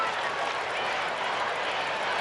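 A stadium crowd at Tim Hortons Field roaring and applauding after a goal in a women's international friendly football match between Canada and England, heard as a steady, broad wash of cheering and clapping with a commentator's voice.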